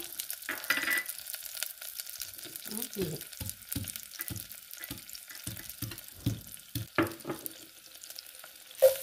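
Mustard seeds and crushed garlic frying in coconut oil for a raw mango pappu, with a continuous crackling sizzle broken by repeated short stirring knocks and scrapes, close and moderately loud.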